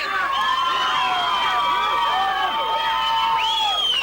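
A lively crowd at an outdoor town-square disco in Karakol, 1999, cheers and whoops continuously, with high excited shouts and scattered clapping blending into a loud, sustained roar.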